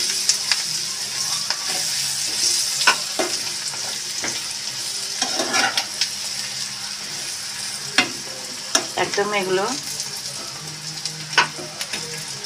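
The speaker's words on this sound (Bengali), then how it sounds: "এবার পেঁয়াজের সাথে পুঁটি মাছগুলোকে একটু ভাজা ভাজা করে নিয়েছি" Small puti fish fry with onions in a pan, a continuous close sizzle broken by scraping, clattering stirs and spatula knocks, with a few brief spoken words.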